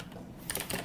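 A computer keyboard is typed on briefly during a gaming coaching session, with a few quick, close clicking keystrokes in the second half after a moment of soft room noise.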